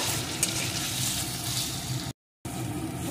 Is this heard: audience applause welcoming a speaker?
no